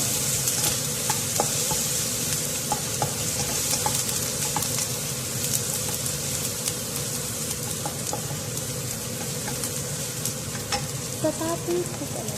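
Bell peppers sautéing in hot oil in a pan, a steady broadband sizzle with light stirring clicks and scrapes throughout, close and continuous with no talking.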